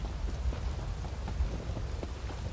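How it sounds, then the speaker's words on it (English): Steady rain with low rumbling thunder as weather effects in Elder Scrolls Online Morrowind, a dense continuous wash of patter over a deep rolling bass, fairly loud and unbroken, no voices. "Love myself a little bit of rain. Thunder."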